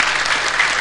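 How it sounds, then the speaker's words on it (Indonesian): An audience at a Ramadan religious gathering bursts into applause, a brief, dense wash of clapping from a large crowd. "Tepuk tangan untuk Paman Birin, keren Paman"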